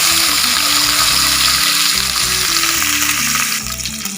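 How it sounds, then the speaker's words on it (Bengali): Potatoes frying in a pan for aloo posto, a loud dense close sizzle with steady crackling that eases slightly near the end, with no talking. "আমরা আলুটাকে ফ্রাই করে নেব।"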